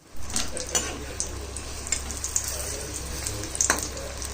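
Puffed bread frying in hot seasoned oil, a steady close sizzle punctuated by light scrapes and taps as the pieces are stirred and flipped.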